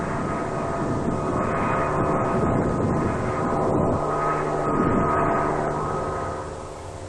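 A strike aircraft roars over a target area in Vietnam, its engine loud and sustained, swelling slightly as it passes and easing off at the end, with no voices.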